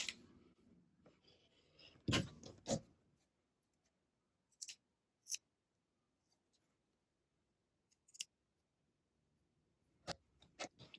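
Scissors clip shirt fabric close to the stitches, with a few sharp, close snips spread across a mostly quiet stretch, one brief cluster early and isolated cuts later.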